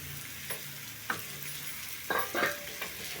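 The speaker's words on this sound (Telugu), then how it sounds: "ఇప్పుడు చామదుంపలు వేసుకోవాలి" Taro roots tipped into a pan for a boiled taro curry, with a few soft scrapes and knocks as they are added and moved, over a faint steady background hiss; no talking.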